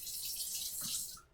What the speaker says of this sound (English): I apologize for having to wash out the shaker here while I'm talking